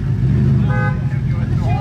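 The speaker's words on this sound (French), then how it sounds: "Ah il a klaxonné" A car horn gives a short toot over a loud, steady traffic rumble in Paris during a Koenigsegg rally, with a second faint honk shortly after.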